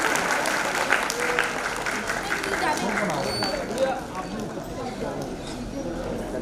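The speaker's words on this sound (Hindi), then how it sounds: "प्लीज आप ताली बजाने में कंजूसी ना करें" Audience applause at a final event, a sustained crowd clapping that runs the whole stretch with chatter mixed in.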